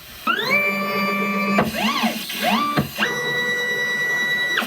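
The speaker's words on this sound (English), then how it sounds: "This can take up to 20 minutes as it will inject the ink, fill the printer up with ink, do a test print, and a camera calibration." A EufyMake E1 UV printer runs through its initial ink injection, giving off a loud, steady mechanical whine with stacked tones, interrupted by short rising and falling sweeps of motor movement before the steady whine resumes.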